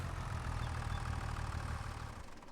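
A tractor engine idles steadily in Farming Simulator 25, a low continuous rumble holding close and even for the whole stretch with no talk over it.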